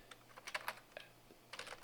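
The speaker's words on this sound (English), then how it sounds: "I can just start typing and hit tab" Keys tap on a computer keyboard while code is being typed in Vim, several quick, quiet clicks in short bursts with brief pauses between them.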